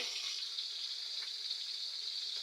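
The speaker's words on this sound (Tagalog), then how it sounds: "Nagpiprito si Mrs. Min." Steady, hissing sizzle of milkfish frying in hot oil, continuous and fairly close, with no talking.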